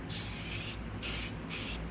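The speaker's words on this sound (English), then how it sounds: "I'm just going to spray for the perimeter of our circle" A spray paint can hisses out three short, close bursts in a steady rhythm with brief pauses between them, used to paint the outline of a circle.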